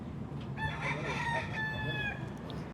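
A rooster crows loudly nearby in one drawn-out call, with hens clucking softly underneath.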